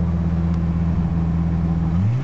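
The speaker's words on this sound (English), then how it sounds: "It smooths out good when you give it gas." A 1981 Jeep Wagoneer Limited with the 258 six-cylinder engine runs loud and close, a steady rough drone that rises in pitch as it is revved at the end.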